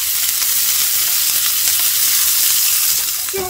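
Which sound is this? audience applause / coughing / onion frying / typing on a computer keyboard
onion frying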